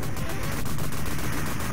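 Shotgun and machine-gun fire from the arcade shooter Cabal, a dense, continuous barrage of rapid shots that stays loud and steady throughout, with no talk over it.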